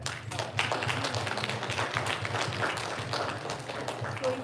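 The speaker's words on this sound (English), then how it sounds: "Let's clap hands to that." An audience at a live devotional talk claps along, a steady stream of hand claps with a rhythmic feel, moderately loud over a low background hum, without speech.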